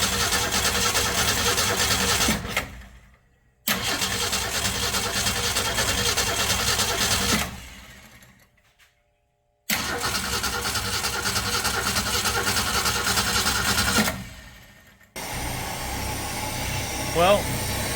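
An engine cranks and sputters in loud, sustained runs broken by abrupt silences, then catches and keeps running evenly nearby after repair of a rough-running fault.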